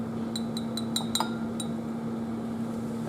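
Glass test tube clinking several times in quick succession, bright light taps close by while a blank solution is dumped out, over a steady electrical hum in a quiet lab.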